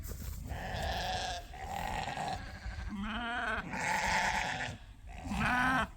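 Several sheep bleat one after another at close range in a field on a sheep farm, wavering calls overlapping with grunts and low rustling in between.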